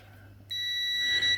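Electrical continuity tester giving its test beep: a short, loud, steady high-pitched electronic tone that starts abruptly partway in and holds for nearly a second.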